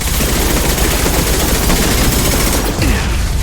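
Gunfire in the Mass Effect 2 video game: dense, loud continuous bursts of automatic weapon fire and impacts, alone, with no gaps.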